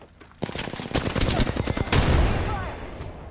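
Rapid automatic gunfire in a video game, a loud, close machine-gun burst that starts abruptly and rattles on for a few seconds before a heavier blast trails off.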